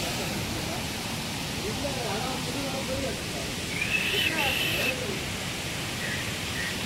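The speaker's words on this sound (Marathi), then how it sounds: "हा सगळा सावडा धबधबा बघू शकता" Steady broadband rush of water at Savdav waterfall, a constant roar with no breaks, with a few faint voices and a brief high tone partway through.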